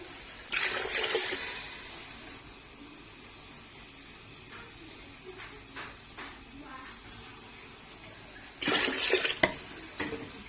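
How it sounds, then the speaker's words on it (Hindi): Two bursts of about two litres of water pouring into a pot, one at the start and one near the end, separated by quiet with faint clinks. "अब इसके अंदर हम पानी ऐड कर देंगे।"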